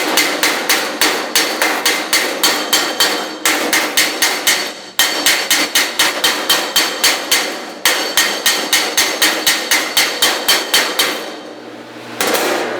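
Rapid, steady hammer blows planishing sheet metal on a dolly during street rod restoration, ringing, close and loud, in quick bursts with brief pauses between runs.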